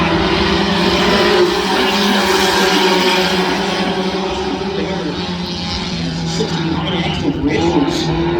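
Race cars roar around the Adams County Speedway oval during a heat race, a loud, continuous wash of engine noise as the field drives hard through the turns.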